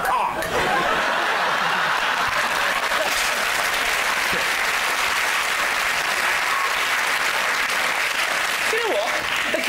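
Studio audience on a comedy panel show breaks into loud, dense applause mixed with chuckling and laughter, a continuous roar of clapping that holds steady throughout.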